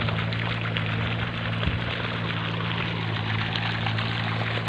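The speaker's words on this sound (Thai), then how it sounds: "น้ำไหลแรงครับ" Water gushing steadily and loudly from a one-and-a-half-inch pipe fed by a solar-powered pump, a dense continuous rush with a low motor hum beneath and no voices.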